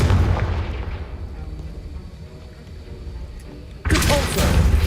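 A Confringo blasting spell in Hogwarts Legacy bursts with a heavy booming explosion at the start, a rumbling tail, then a second sharp blast near the end, loud and close.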